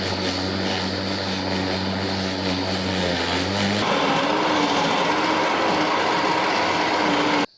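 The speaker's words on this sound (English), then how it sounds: "got the Ryobi scarifier out" A Ryobi scarifier dethatches a lawn, its motor giving a loud, steady whirring drone with a raspy buzz of tines against turf. The pitch shifts partway through as the load changes, then the machine cuts off abruptly.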